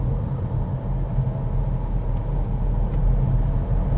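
A car's engine hums steadily in a low rumble as it drives along a narrow, fast country road, with continuous road noise from inside the cabin and no talking.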